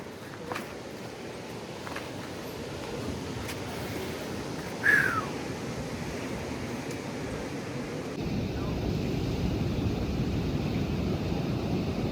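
Strong wind rumbles across the microphone at Cabo de Rama Beach in Goa with a broad wash that may be surf, growing rougher toward the end; a brief sharp cry cuts through midway.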